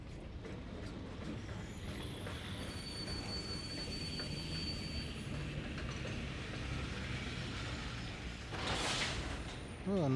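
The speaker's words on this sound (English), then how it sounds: "Oh, another train." A train rolls past in the video game Master Detective Archives: Rain Code, its wheels squealing in high, sustained tones over a steady rumble and rain, with a brighter burst of screech near the end.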